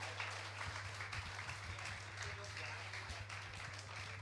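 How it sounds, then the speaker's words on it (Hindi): Audience at a Jain religious gathering clapping in a steady, dense wash of applause, fairly faint and continuous, with a voice speaking over it. "तालियां बजती रहनी चाहिए।"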